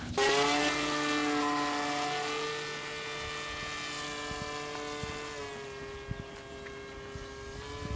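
A steady, high-pitched electric motor whine with propeller buzz from a dual-motor RC plane, holding a constant tone throughout, fairly close and loud.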